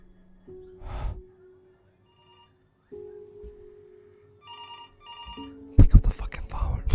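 A telephone rings inside the video game Before Your Eyes, sounding as two repeated bursts of ringing with quieter tones and brief vocal sounds between them, followed by a louder, noisy rush at the end.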